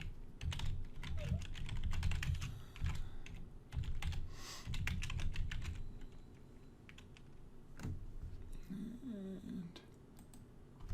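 Quick bursts of typing on a computer keyboard, close and fairly quiet, with irregular key clicks and short pauses, plus a few faint voice sounds.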